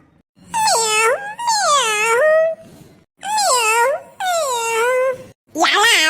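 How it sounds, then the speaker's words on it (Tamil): Cartoon cat meowing in a Tamil animated ghost comedy, several long drawn-out wailing meows in a row with short gaps between them, loud and close. "பூனை"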